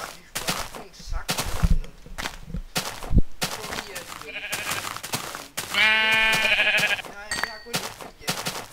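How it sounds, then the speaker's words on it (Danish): Sheep bleating in the video game Minecraft, a harmonic bleat standing out for about a second and a half in the latter half, amid game sounds and a man's chatter. "Kom her, din dumme får."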